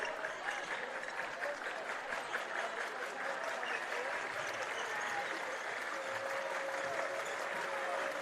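Crowd applause in a gym at a boys high school basketball game, steady rhythmic clapping that builds and stays dense and continuous, heard from across the arena.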